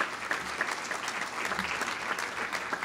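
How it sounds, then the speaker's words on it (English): Steady, dense audience applause at an Economic Club gathering, many hands clapping evenly throughout with no pauses and no voices over it. "Give him a round of applause."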